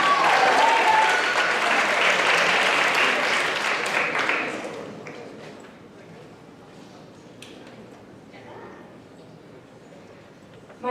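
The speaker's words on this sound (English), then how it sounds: "Give them a round of applause." Audience at a grade 9/10 spoken word poetry final gives a poet a loud, dense round of applause that fades out after about five seconds, leaving quiet room noise.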